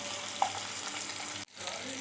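Tengra fish, marinated in salt, chili and turmeric, frying in a pan with a steady close sizzle, a short break near the end before it resumes.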